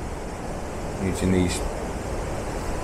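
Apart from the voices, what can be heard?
waterfall on the Elidir trail, Brecon Beacons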